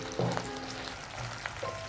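Capsicum for gobi manchurian sizzles in a hot pan, giving a dense frying hiss with a few light utensil scrapes and taps, and no one talking.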